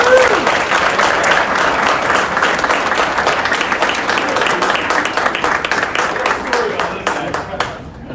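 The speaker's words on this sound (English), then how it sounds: "Let's give a big round of applause for that." Loud, sustained round of applause from a crowd at a Super Bowl panel event in Miami, dense clapping filling the room evenly before tapering off and thinning out at the end, with some voices mixed in.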